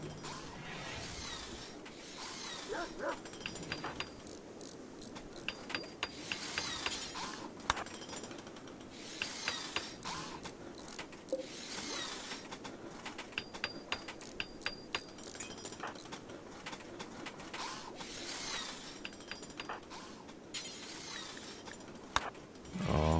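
In RimWorld, a granite bed is welded together through a steady run of soft mechanical clinks, clanks and ratcheting taps that repeat irregularly at low volume in the background.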